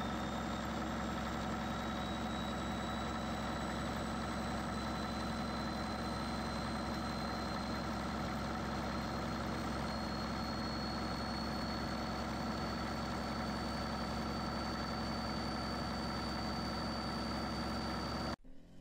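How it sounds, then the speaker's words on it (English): Vintage diesel engine idling steadily after a cold start, a dense, even low rumble with constant vibration and a faint high whine, running without change for the whole stretch before cutting off abruptly at the end. "This successful cold start demonstrated the engine's condition and readiness for future testing and power"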